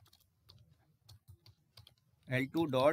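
Computer keyboard keys are tapped in a sparse, soft series of close clicks while code is typed, followed by someone speaking.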